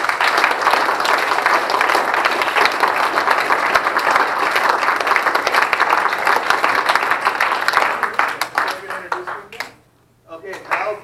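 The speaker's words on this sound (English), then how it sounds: "Round of applause." Sustained applause from a crowd at a scout troop Court of Honor, dense clapping filling the room for about eight seconds before thinning out, briefly dropping to near silence, then a few scattered claps return.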